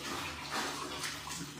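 Water splashing in a tub while a dog is bathed, a brief close burst of sloshing and running water.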